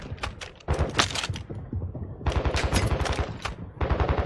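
Rapid automatic gunfire from several weapons in an online shooter match comes in dense bursts, pausing briefly before resuming in a long, loud stretch of overlapping fire.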